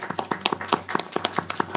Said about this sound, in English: I'm sure you deserve more applause